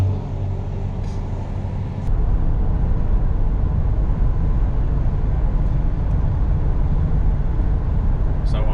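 A van cruises along the road with the foot off the gas, a loud steady engine and road rumble that thickens after a brief shift, with no voices heard.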